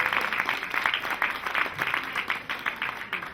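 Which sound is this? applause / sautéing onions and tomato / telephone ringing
applause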